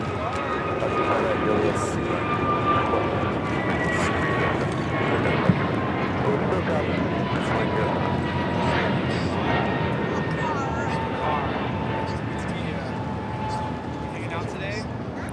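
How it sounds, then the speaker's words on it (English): An airliner takes off from Los Angeles LAX, bound for Philadelphia, its engine roar a steady, broad rumble sustained throughout at moderate distance, with faint radio chatter and voices underneath. "That flight taken off, heading to Philadelphia."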